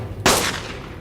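Single long-range gunshot in ARK, one sharp loud crack followed by a fading reverberant tail over low background hum.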